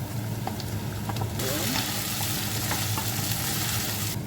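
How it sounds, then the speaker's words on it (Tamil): Onion and green chili sauté in hot oil in a pan, giving a steady, close sizzle with occasional stirring scrapes and clicks throughout. "டேபிள் ஸ்பூன் எண்ணெய் சேர்ப்பேன் வெங்காயம் பச்சை மிளகா சேர்க்க போகிறேன் வதக்க விட்டுட்டு"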